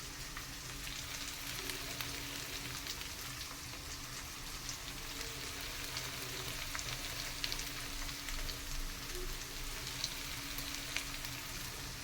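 Ginger, garlic, green chilli and onion frying in a pan give a soft, continuous sizzle with faint crackles and a few light stirring clicks, with no one talking.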